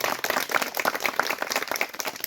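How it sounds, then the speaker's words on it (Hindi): Lively crowd applause at an indoor Hindi-language gathering, the audience clapping for themselves: a dense, continuous patter of many hands at steady loudness throughout. "जोरदार तालियां एक बार अपने लिए हो जाए"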